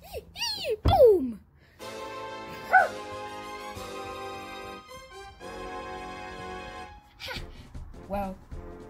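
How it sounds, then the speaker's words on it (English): A cartoonish dog in the video game Pikmin gives a few short yips and barks, then whimpering, sustained tonal cries, mixed with game music and effects at moderate loudness. "It's just a dog."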